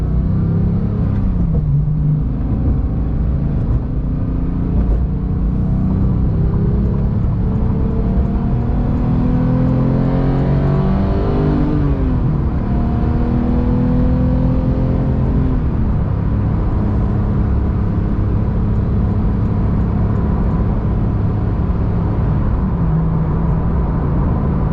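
A Porsche 911 GT3 engine revs hard while driving, a loud continuous roar with pitch sweeping up and down through gear changes, alone with no talk.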